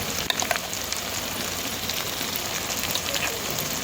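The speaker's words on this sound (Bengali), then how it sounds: "তো চলো আদা রসুন বাটাটা দিয়ে দিই" Ginger garlic paste added to frying onions gives a steady, dense close sizzle with light crackling pops throughout, continuous and even in level.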